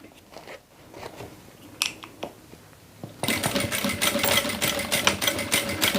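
A sewing machine stitches a transparent pouch, starting with a few scattered clicks and taps before the motor kicks in partway through and runs in a steady, close, rapid whir until the end.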